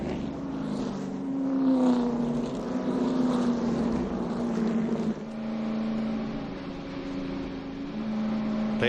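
Stock cars lapping under caution at the 2011 Daytona 500, a steady loud engine drone with sustained tonal whine that shifts pitch as cars pass, continuous with no talk.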